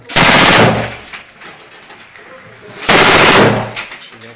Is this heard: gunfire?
yes